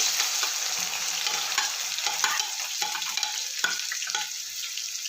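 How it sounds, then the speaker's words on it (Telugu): Finely chopped onions frying in hot oil for a Telangana country chicken curry, a steady close sizzle with scattered crackles and light stirring scrapes throughout. "ఆయిల్ వేడైంది. సన్నగా కట్ చేసిన ఉల్లిపాయ ముక్కలు వేసుకుంటున్నాను."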